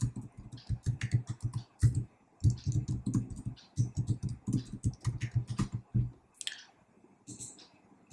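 Quick bursts of keystrokes on a computer keyboard clatter close by in uneven runs, entering a password with short pauses between flurries before trailing off near the end.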